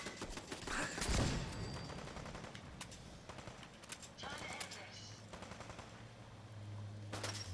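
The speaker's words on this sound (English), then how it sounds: "Somebody's shooting at me." Enemy gunfire in Fallout 4, with repeated sharp shots and bursts scattered throughout, moderately loud, alongside game sounds and a humming tone near the end.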